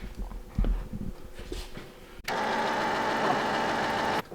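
An engine cranking over without firing after fuel is added: a steady, even starter-motor churn that runs for about two seconds and then cuts off, preceded by faint knocks and handling noises.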